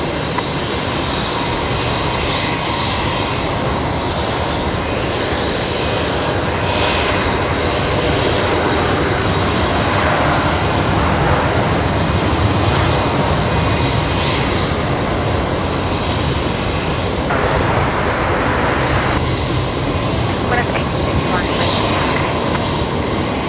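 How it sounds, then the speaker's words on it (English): An aircraft engine spools up at Brisbane Airport, a steady broadband roar that holds throughout at moderate distance, with faint voices in the background. "I can hear a spool up, but I don't know where it's coming from."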